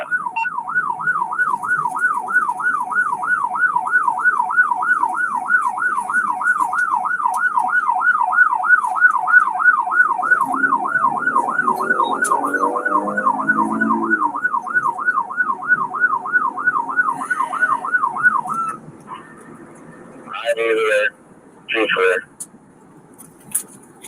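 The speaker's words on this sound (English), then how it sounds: "Now he's starting to enter the township, and now he turns off his siren and going into stealth mode." A police car siren wails in a steady, rapid oscillating pattern, loud and close, for most of the stretch before cutting off abruptly; a low rumble and brief voices follow after it stops.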